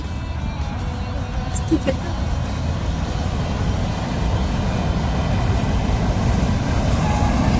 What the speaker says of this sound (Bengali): দেখেন কত দ্রুত ট্রেন যায়